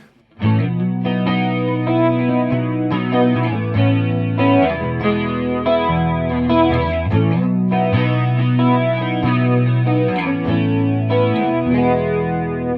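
A guitar run through a PastFx 80/A flanger pedal set low, sustained distorted chords with a swirling sweep, played loud and continuous, with no talking.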